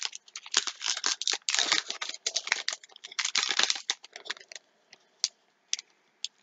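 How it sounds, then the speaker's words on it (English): A blade slicing and tearing through childproof plastic packaging around trading cards, with crinkling and ripping in dense bursts, then a few sparse clicks and snips at the end. "Don't look, Gene, I'm taking the blade out."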